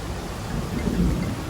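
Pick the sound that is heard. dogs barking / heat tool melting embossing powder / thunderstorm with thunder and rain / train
thunderstorm with thunder and rain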